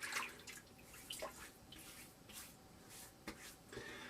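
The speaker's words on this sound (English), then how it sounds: "Let's wet the face." Water splashes and drips as a face is wetted before shaving, a few soft, scattered splashes near a sink in a quiet room, with no talking.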